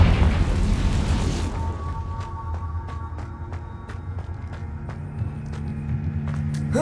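A Confringo explosion spell cast in Hogwarts Legacy bursts loudly at the start, a broad blast that lasts about a second and a half before settling into a low rumbling game ambience with scattered faint clicks.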